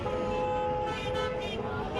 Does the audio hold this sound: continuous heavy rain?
no